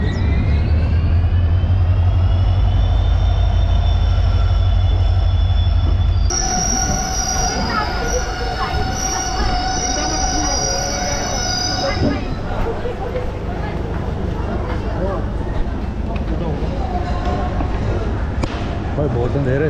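A train rumbles along the tracks with a loud, sustained metallic squeal of wheels, continuous noise filling the whole stretch.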